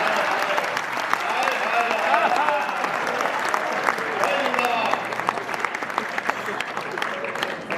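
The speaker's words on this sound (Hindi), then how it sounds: "जंग के लिए तालियां थोड़ी कम है, टुकड़ों पे ज्यादा बज रही है" Audience applause at a Hindi comic poetry gathering (kavi sammelan), a dense, steady wash of clapping from a crowd that holds for the whole stretch, with a few louder claps standing out near the end.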